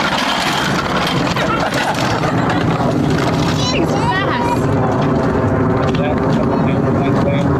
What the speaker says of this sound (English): I hear the planes flying over.